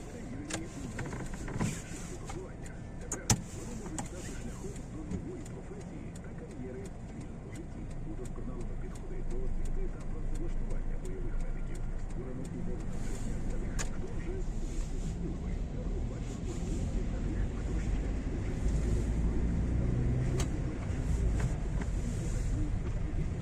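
A car driving along a driving exam route in Sumy at dusk, with a steady engine and road rumble that grows a little louder halfway through, and a few clicks near the start.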